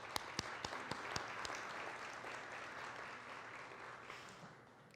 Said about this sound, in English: I'd like to give a big round of applause for everyone who helped out tonight